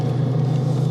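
A 1989 Ferrari 328 GTB rumbles while driving, a steady low engine drone heard briefly from inside the car.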